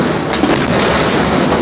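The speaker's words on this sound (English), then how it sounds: "A massive explosion, many times bigger than the first blast, and a blinding white light." Massive blast at Tianjin port captured in news footage: a loud, dense roar of broadband noise with rumbling crackle, sustained and close throughout, no voices.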